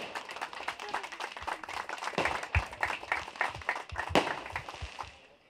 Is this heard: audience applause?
yes